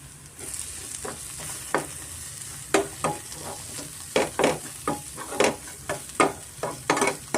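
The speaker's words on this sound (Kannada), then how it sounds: "ಚೆನ್ನಾಗಿ ಸ್ಪೈಸಸ್ ಪೌಡರ್ ಎಲ್ಲ ಚೆನ್ನಾಗಿ ಹುರ್ಕೊಬೇಕಾಗುತ್ತೆ ಮಸಾಲೆನಲ್ಲಿ" Spice powders sizzle in a pan of chicken keema masala as they are stirred. Soft frying crackle sits under repeated sharp scraping strokes that come in an uneven rhythm.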